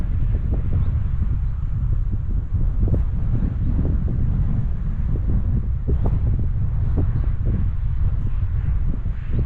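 Strong headwind gusting across a golf course, a loud, continuous low roar buffeting the microphone with rustling bursts, no voices.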